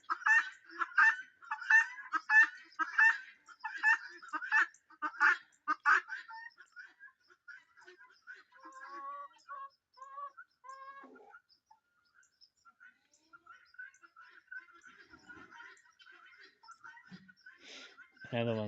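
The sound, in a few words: farm birds going into the coop, chicken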